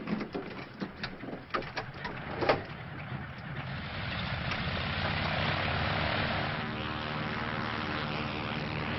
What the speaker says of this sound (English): Would you like to make your airplane fly now?